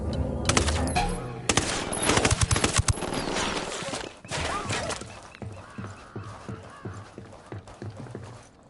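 Dense bursts of automatic gunfire in the video game Ghost Recon Wildlands, loud and rapid in the first half and then thinning into a steady run of sharper, more distant single shots.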